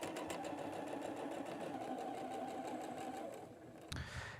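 A sewing machine stitches a 1/4 inch quilt seam, running steadily and fairly close for about three and a half seconds before slowing and stopping with a brief clunk.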